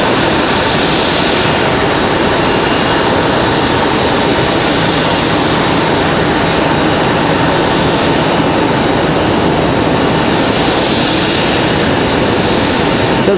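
A CRJ regional jet at Raleigh Durham airport, its engine noise a loud, continuous wide roar with a faint tonal whine running underneath, close by and holding steady throughout with no voices.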